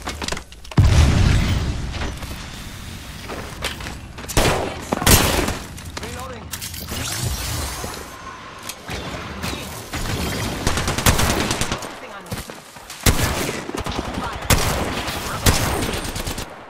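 Rapid gunfire from an Apex Legends battle, with repeated bursts and sharp shots, some near and loud and others more distant. The firing keeps going through the whole stretch, and other game effects mix in with it.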